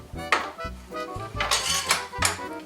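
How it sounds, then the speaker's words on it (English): Metal spatula and fork scrape and clink against a dish while stripping cooked Coachella chicken meat off the bones, a few close, sharp scraping strokes with dull taps in between. "use my spatula and my fork to get the rest of the meat off of the bones"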